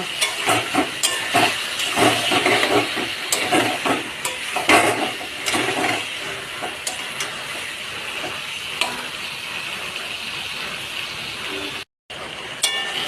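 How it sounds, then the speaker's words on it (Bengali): Chicken pieces with spices are stir-fried in a pan for chicken kasha, a steady loud sizzle broken by repeated scraping stirs of the spatula, with a brief gap near the end. "মশলা দিয়ে দিয়েছি মাংস দিয়ে দিয়েছি এবার ভালো করে কষিয়ে নেব মাংসটা"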